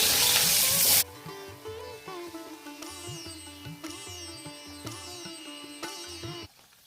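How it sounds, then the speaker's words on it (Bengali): Large pieces of bhetki fish sizzle loudly in plenty of hot oil for about a second, a dense close hiss that cuts off abruptly as instrumental music takes over. "প্রথমে একটু বড় পিসটা ভেজে নিই, তেলটা বেশি থাকতে থাকতে"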